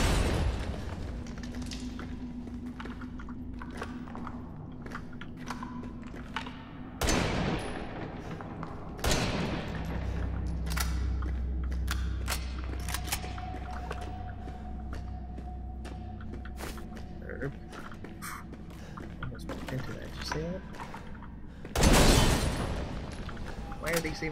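A handgun fires in Resident Evil 7, with several loud, sharp shots and booming impacts spread across a tense, rumbling game soundscape, while someone talks over it.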